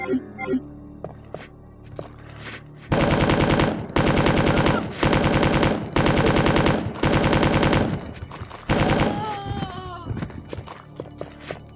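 Special weapon firing at zombies in Resident Evil 2: long loud bursts of rapid gunfire, roughly six sustained volleys separated by brief gaps, followed by softer scattered impacts and game sounds.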